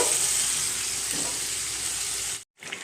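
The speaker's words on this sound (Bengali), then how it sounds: "এখন আমি ম্যারিনেট করে রেখেছিলাম যে চিকেনটা, সেই চিকেনটা আমি দিয়ে দিচ্ছি।" Marinated chicken dropped into hot spiced oil for chicken kosha sizzles loudly and steadily up close, a dense frying hiss that cuts out briefly near the end, with no talking.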